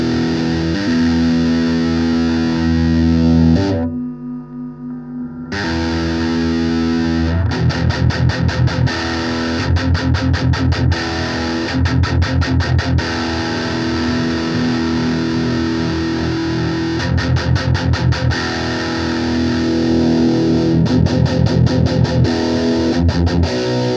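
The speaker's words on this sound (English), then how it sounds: "now I'm gonna play the amplifier on the both sides of the spectrum" Electric guitar through a Blackstar tube amplifier, heavily distorted and loud, playing sustained chords with a brief silent gap, then fast rhythmic chugging stabs in repeated bursts.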